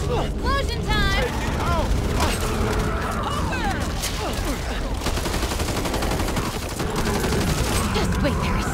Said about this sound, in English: Explosion time!